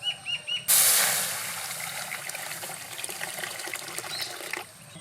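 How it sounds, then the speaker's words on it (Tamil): Water pours steadily over chicken in a container with a bright splashing rush, running for several seconds before cutting off. "தண்ணி ஊற்றி சிக்கனை வச்சுக்கலாம்ப்பா."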